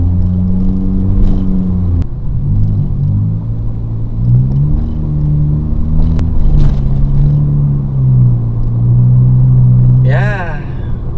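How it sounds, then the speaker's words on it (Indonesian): A 2016 Honda Brio RS with a CVT accelerates. Its engine drones loud and close from inside the cabin, with the tone holding and rising smoothly rather than stepping through gears, and a voice cuts in briefly near the end. "Dan gimana, kita akan coba tarikannya ya."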